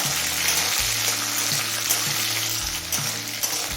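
Green chili, garlic and black cumin fry in hot oil with a steady, close crackling sizzle and occasional stirring scrapes, with no voices.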